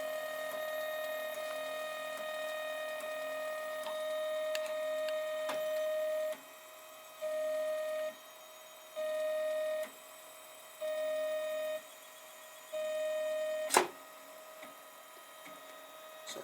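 A Protomaker 3D printer runs a dry test without plastic, its steady motor hum broken into regular on-off pulses as the axis moves up and down, with one sharp click near the end.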